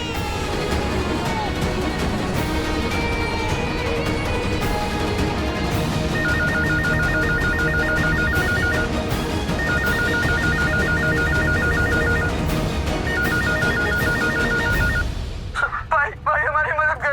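A telephone rings in a repeating trilled pattern, three bursts, during a Hindi TV drama scene, sitting under dense dialogue and background music before cutting off abruptly.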